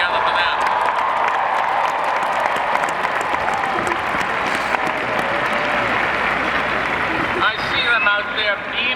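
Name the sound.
graduation crowd applauding and cheering for parents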